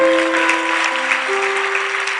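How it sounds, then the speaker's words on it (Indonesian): A church congregation applauds for God during a sermon, dense, loud clapping held steadily under sustained organ or keyboard tones. "Kasih tepuk tangan untuk Tuhan."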